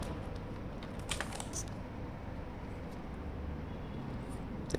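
Computer keyboard keystrokes during year-end maintenance while backing up users, a few quiet scattered clicks over faint steady background noise, with no talking.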